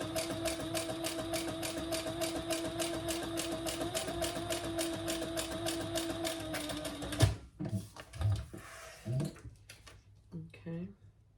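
A sewing machine back stitches a leather waist pack in a fast steady whirring hum for about seven seconds, then stops. A voice talks through and after the run.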